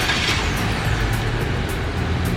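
A 2024 GAC GS3 Emzoom with a 1.5T GDI engine and DCT runs after a remote start from the key fob, making a loud, steady engine drone with a faint rhythmic ticking.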